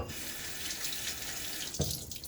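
Tap water runs steadily into a bathroom sink during a wet shave, then a brief splash as water is cupped and thrown onto a face near the end.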